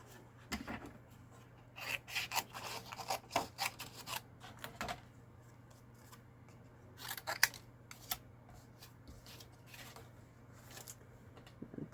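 Scissors snipping through green cardstock scraps, clusters of quick crisp cuts and rustling paper, close and fairly quiet, with pauses between bursts over a faint steady hum.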